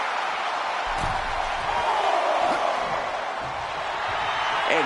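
A wrestling video game crowd on PS4 roars and cheers steadily, a loud continuous wash of noise with faint thuds from the match underneath and no talk.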